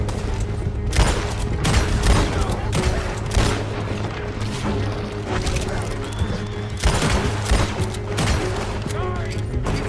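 Dense gunfire rattles through a robbery shootout in Red Dead Redemption 2, a steady barrage of overlapping shots and booms with heavier volleys near the start and later on, while voices shout over it.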